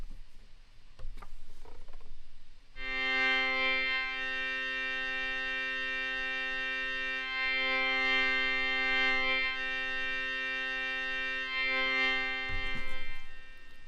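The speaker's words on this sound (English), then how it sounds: "why don't we slow down that LFO and change it to a sine wave?" A sustained Synthstrom Deluge wavetable synthesizer tone rich in harmonics, slowly swelling and receding in a gentle wavering cycle from a slow sine LFO, playing alone after a few faint clicks.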